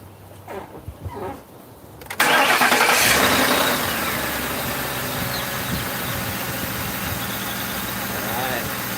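A 2005 Ford Crown Victoria police sedan, just repaired with a new cylinder 4 ignition coil and plug, cranks and fires abruptly after quiet talk, then settles into a steady, close idle.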